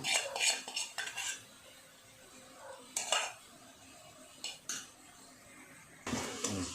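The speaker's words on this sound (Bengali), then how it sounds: "দুধটা তো দিয়ে দিলাম, এবারে অনবরত নাড়তে থাকবো।" Coconut cooked down with thickened milk being stirred in a pan over a low flame, a spoon scraping and clinking against the metal in irregular bursts, close and fairly quiet.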